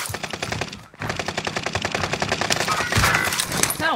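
Rapid automatic gunfire rattles in a multiplayer shooter, dense bursts of shots with a brief pause near the start before the firing resumes and swells louder toward the end.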